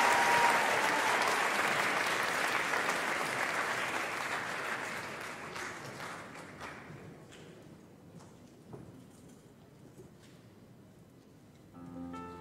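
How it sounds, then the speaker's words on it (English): An audience at a school house music evening breaks into full applause that gradually fades to scattered claps and thuds, and music begins at the very end. "Everyone give a round of applause and enjoy the music."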